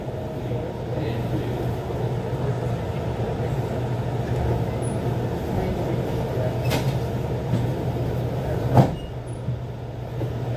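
The ATL SkyTrain, an airport people mover near Atlanta, departs with a steady low rumble and hum of wheels and motors, a couple of brief clanks, and faint talk in the car.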